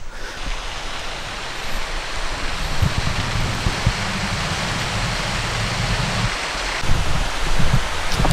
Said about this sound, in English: And here's a waterfall.